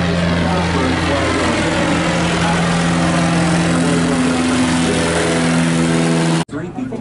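A bush plane's propeller engine drones steadily and loudly at a bush flying demonstration in Alaska, a constant low hum that cuts off near the end, with voices in the background.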